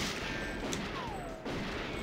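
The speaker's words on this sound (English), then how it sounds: "Fear my paint gun." In the GoldenEye 007 video game, a paint gun fires in dense, rapid bursts. The popping is loud and continuous and briefly dips near the end, with no talk.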